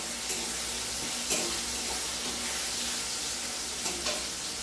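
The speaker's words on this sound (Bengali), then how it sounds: "এটা ভাজা হতে তো টাইম লাগবে" Biryani ingredients frying in a pan, giving a loud, steady sizzle throughout with occasional stirring scrapes, close up and with no talking.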